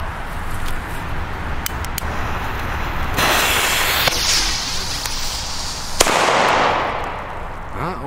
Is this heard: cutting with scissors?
no